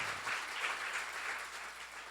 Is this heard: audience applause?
yes